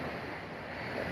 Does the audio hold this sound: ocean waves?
yes